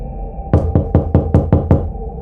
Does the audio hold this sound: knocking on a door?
yes